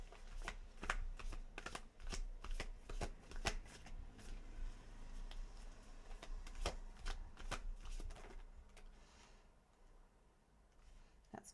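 Tarot cards shuffled for a reading: a rapid run of crisp riffling and slapping card flicks, close and fairly quiet, thinning to sparse taps and near-silence at the end.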